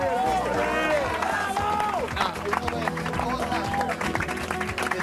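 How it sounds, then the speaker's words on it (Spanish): Studio audience on an Argentine TV variety show clapping and cheering for a guest, a dense, steady wash of applause with shouting voices and music layered over it. "Un aplauso para"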